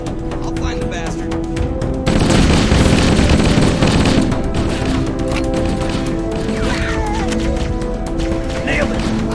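Automatic weapons fire rattles in rapid bursts during a Halo: Combat Evolved firefight, with booms and crashes mixed in and voices shouting through the battle.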